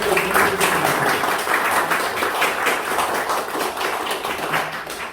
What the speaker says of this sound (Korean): 네, 박수 한번 부탁드리겠습니다.